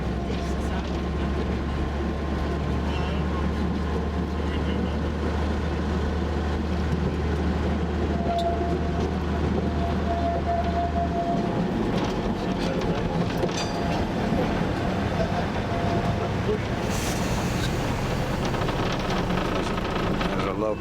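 A small narrow gauge rail car runs along the line between George and Mossel Bay in South Africa, with a steady low engine drone and continuous rumbling wheel noise, close and loud for the whole stretch, without any talking over it.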